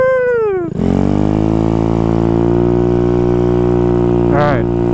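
A Honda Ruckus scooter with a swapped-in 150cc GY6 engine revs and then holds a loud, steady buzzing drone close by, with a brief rise in pitch near the end.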